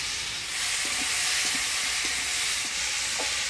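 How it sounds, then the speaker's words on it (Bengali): Potato and taro pieces, seasoned with turmeric and salt, fry in tempered oil in a pan, giving a steady close sizzle with faint stirring knocks and no speech. "আলু কচুটা ফোড়নের তেলে একটু ভাজা ভাজা করে নিলাম।"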